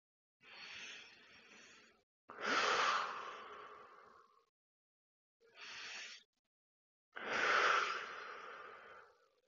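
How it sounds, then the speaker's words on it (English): Deep breaths during a seated groin stretch come in two clear in-and-out cycles, each a softer inhale followed by a louder, longer exhale, close and alone with silence between. "I'm going to hold here for 3 deep breaths"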